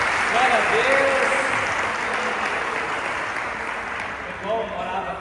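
Congregation applauding during a Sunday church service at Lagoinha São Leopoldo, a steady dense clapping wash that stays fairly loud throughout, with a voice speaking over it.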